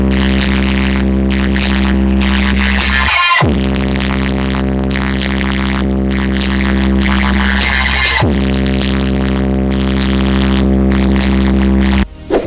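Deep, sustained bass booms from a Tornado loudspeaker box, loud and steady with a throbbing low pulse and two brief dips where the tone restarts.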